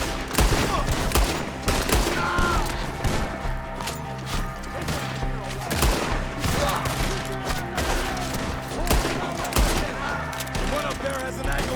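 A shootout in Red Dead Redemption 2 crackles with dense, rapid gunfire, many overlapping shots and sharp impacts cracking continuously at close range throughout.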